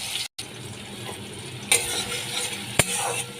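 Chopped tomatoes and spices are stirred and fried in hot oil for a fish curry, giving a steady close sizzle with a few sharp clinks of a spoon against the pan.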